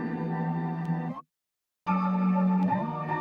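Chopped music sample triggered through FL Studio's Fruity Slicer, a sustained tonal loop that cuts off abruptly into a brief silence and resumes with a shifted slice, clean and alone without talk.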